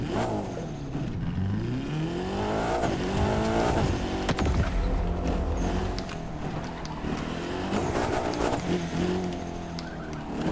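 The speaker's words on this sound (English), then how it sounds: "you will see that the car is going to go sideways" A car in The Crew 2 drifts sideways, its engine revving up and down in rising and falling sweeps while tires squeal, loud and close throughout without speech.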